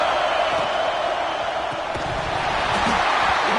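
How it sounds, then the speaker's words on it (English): A football stadium crowd roars steadily to inspire the defense ahead of a red zone stop, loud and continuous, with some low thumps. "here comes the noise. This crowd is trying to inspire this defense to make a big red zone stop"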